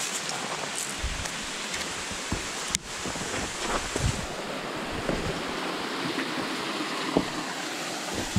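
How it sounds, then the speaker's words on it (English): Small waterfalls flowing over willow roots at the Falls of Cobb: a steady, broadband rush of water with gusty wind noise against the microphone and a few faint knocks. "And more little waterfalls and on down."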